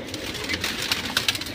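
Pigeons in a breeder's loft give soft, low coos amid a steady rustling background, with a few brief brighter chirps and flutters standing out near the end.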